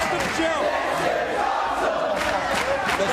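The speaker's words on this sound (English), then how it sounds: "Listen to the crowd." An arena crowd roars and chants during a 2005 wrestling match between AJ Styles, Samoa Joe and Christopher Daniels, a loud, sustained wash of cheering voices with swelling shouts and no commentary.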